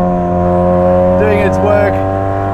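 Ferrari 458 Speciale supercar with two turbochargers and a Novitec exhaust, engine droning loud and close at steady high revs with shifting harmonic tones, no pauses throughout.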